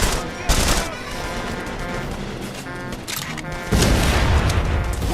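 Rapid automatic gunfire from a weapon in The Saboteur, a loud continuous rattling burst with a raspy, saw-like buzz that swells sharply twice over several seconds, no voices over it.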